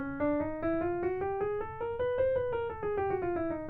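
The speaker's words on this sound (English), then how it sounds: "a chromatic scale starting on C would sound like this" Piano notes climb steadily in even half-step increments, one after another at a brisk pace, then walk back down the same way.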